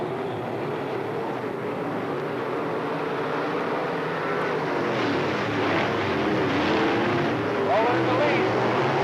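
Race cars accelerate together on a restart at East Moline Speedway, making a loud, continuous engine roar that swells slightly toward the end, with a voice talking over it.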